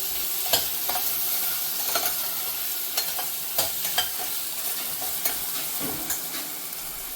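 Vegetables sauté in ghee in a pan with a steady sizzle and repeated spatula stirs and scrapes, close and unaccompanied by speech.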